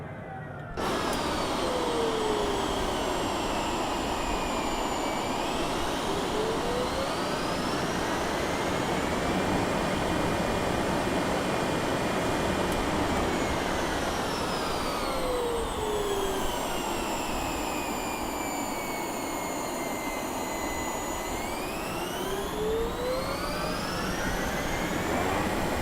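Boeing 707 jet engines spool up and down under throttle changes in Microsoft Flight Simulator: a loud continuous roar with whining tones sweeping up and down in pitch and a rough, sputtering quality in the middle range, steady throughout with no talking.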